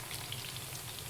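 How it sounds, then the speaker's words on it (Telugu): Cauliflower (gobi) pieces fry in oil in a kadai, giving a steady, soft sizzle and crackle that stays even and close throughout, with no voices. "ఎన్ని పడితే అన్నీ వేసుకుని ఫ్రై చేసేసుకోవాలి"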